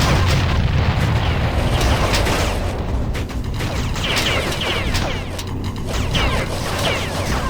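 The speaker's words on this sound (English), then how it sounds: "Enemy Pterodine destroyed" Heavy rumbling blasts and crashing debris from an enemy Pterodine unit being destroyed in the real-time strategy game Ground Control HD, a dense, loud and continuous roar of explosions with no clear gaps.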